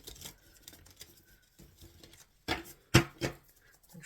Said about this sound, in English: These are awkward, very awkward cards to shuffle